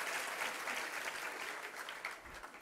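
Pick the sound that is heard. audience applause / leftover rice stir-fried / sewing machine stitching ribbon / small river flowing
audience applause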